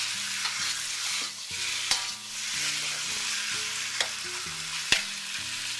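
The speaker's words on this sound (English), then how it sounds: "When you stir this mixture around," A black bean and chicken mixture sizzles in a hot pan while being stirred, a steady close frying hiss broken by a few sharp scrapes of the utensil against the pan.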